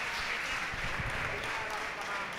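Applause at a Spanish individual spearfishing championship, a light spread of clapping from a small crowd that stays low and blends into the background noise of the venue.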